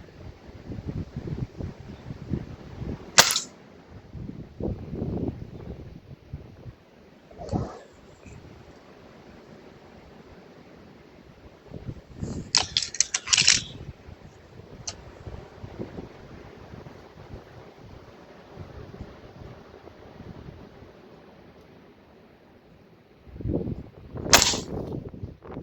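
Break barrel airgun with a combo scope fired outdoors in cold, damp air: a few sharp, spaced-out shots with wind rumble and handling noise in between.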